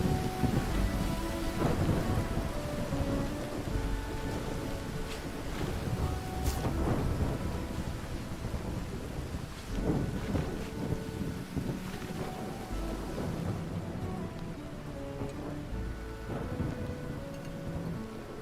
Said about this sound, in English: I think it might be raining.